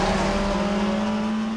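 Rebellion prototype race car at Spa during the 2020 WEC 6-hour race, a sustained loud engine howl holding a steady high pitch as it passes, with no talk over it.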